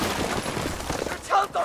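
A burst of rapid AUG assault rifle fire crackles in a busy Battlefield 4 battle. Automatic shots blend with other combat noise, followed by a couple of sharper reports near the end.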